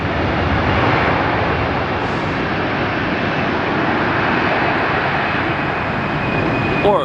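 Jet airliner landing at LAX with thrust added just before touchdown, a loud continuous engine roar and rushing air filling the whole clip, steady and close.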